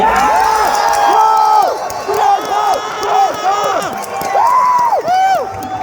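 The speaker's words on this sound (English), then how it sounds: "If you like contestant number 4, cheer!" A live crowd cheers for contestant number four in a stage contest, with loud, close shouting, high whoops and screams rising and falling in repeated bursts over roughly six seconds.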